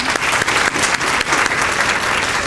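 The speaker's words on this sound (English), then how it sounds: "Representative Liebling, could you give her a round of applause, please?" Dense, steady applause from a sizable audience at a 12th grade graduation ceremony, sustained and fairly loud throughout with no pauses.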